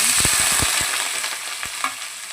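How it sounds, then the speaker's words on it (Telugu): Onions frying in oil with cumin seeds and garam masala give a steady bright sizzle with scattered pops and a few stirring scrapes, close and fairly loud, easing slightly over two seconds with no talking. "సరిపడా ఆయిల్ పోసిన ఇప్పుడు జీలకర్ర వేసుకోవాలి గరం మసాలా వేసుకోవాలి గరం మసాలా ఇంకా ఉల్లిపాయలు వేసుకోవాలి"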